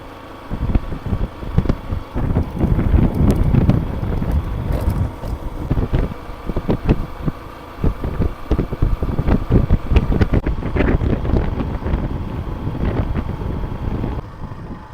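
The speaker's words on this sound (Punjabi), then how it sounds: "ਅਸੀਂ ਮੋਟਰਸਾਈਕਲ ਤੇ ਜਾ ਰਹੇ ਹਾਂ" Riding along on a motorcycle toward farm fields, wind buffets the microphone in loud, gusty bursts over a low engine drone, with no talking.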